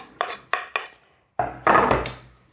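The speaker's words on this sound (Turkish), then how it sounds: "şimdi çok ince bir şekilde kıyıyoruz" A knife finely chopping a very hot pepper, seeds removed, on a board: three crisp separate strokes, a pause, then a denser burst of quicker, louder cuts, close and alone.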